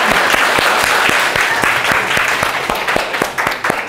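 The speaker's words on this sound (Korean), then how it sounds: "네, 박수 좀 쳐줍시다." Students clapping together in a classroom, a steady run of sharp claps from a small group close by, holding strong for several seconds before thinning slightly toward the end.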